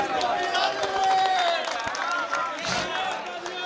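Audience at a Punjabi mushaira poetry gathering in Lahore, Pakistan, breaks into sustained clapping and crowd noise for the poets, a dense steady patter of many hands with voices mixed in.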